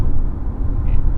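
Steady low road rumble and engine drone from a SsangYong Korando cruising at a constant 100 km/h on a highway, loud and continuous with no talk.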